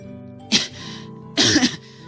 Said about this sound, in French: mon dernier toussement pour la fin